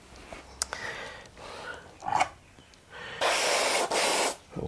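Opaque white paint is sprayed from a can onto a racing driver's helmet, several short hissing bursts building to a long, loud sustained spray close to the microphone.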